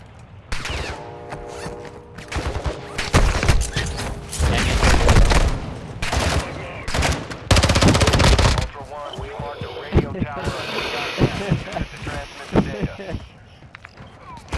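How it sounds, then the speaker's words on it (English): Gunfire in Call of Duty DMZ, with dense bursts and heavy booms for the first half, then lighter scattered shots and movement, all with voices talking over it. "Taking effective fire."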